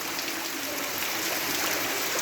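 Rainwater runs off steadily at home during a rain shower, a continuous broadband wash of flowing water with fine splashing texture, moderately close and unbroken, with no voices.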